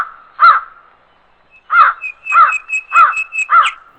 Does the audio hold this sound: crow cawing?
yes